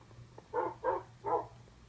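Three short synthetic dog barks from Minecraft pets, evenly spaced and moderately loud over a quiet game background hum.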